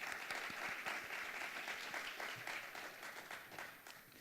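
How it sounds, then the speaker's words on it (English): Audience applause at a leadership lecture: a steady round of clapping from a seated crowd, fairly even throughout and slowly tapering off toward the end, with no voices over it. "I would like to take a moment to give a round of applause to Mercantile Commerce Bank for their great sponsorship"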